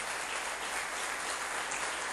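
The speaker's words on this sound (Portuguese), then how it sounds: "Dá um aplauso para o Senhor." Steady applause from a church congregation during a sermon, a dense, even wash of clapping that holds at a constant level throughout, with no voices above it.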